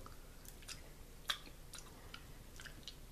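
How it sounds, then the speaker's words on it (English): Soft, wet chewing of a chewy, bendable packaged snack, close to the mic and faint, with irregular small crunches and one sharper bite. "It's hard to chew on."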